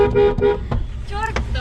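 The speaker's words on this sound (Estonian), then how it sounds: "Mis sa piibutad?" Two short car horn toots sound close by, with people talking loudly over them inside the car.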